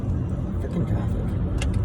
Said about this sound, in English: Freaking traffic.